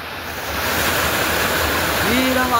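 Lalthane waterfall roars as a steady, loud wash of falling water, with a brief voice rising faintly at the end.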